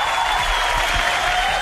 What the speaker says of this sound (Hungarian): Jogos-e a taps és a sikor?